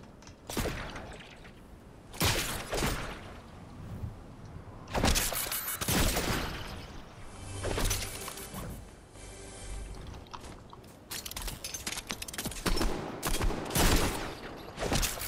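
Gunfire from a shooter video game bursts out in loud, repeated volleys with quieter gaps between them, some rapid and machine-gun-like, with no clear talking over it.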